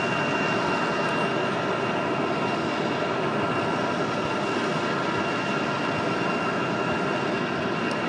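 A JetBlue airliner at Raleigh Durham International Airport gives a steady, loud, broadband roar that holds without a break throughout, with no voices over it.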